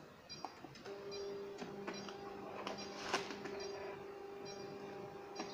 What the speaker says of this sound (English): it's printing the graphical presentation.